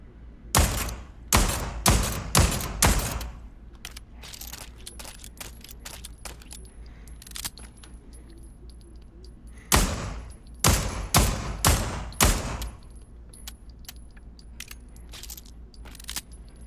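Magnum revolver in the VR shooting game Pavlov VR, two loud bursts of about six sharp, evenly spaced gunshots each, separated by a quiet stretch with faint metallic clicks and handling sounds, no talk.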